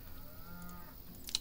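Cattle in the video game Farm Manager 2018 give a low, drawn-out moo, faint and steady in the background of the farm ambience.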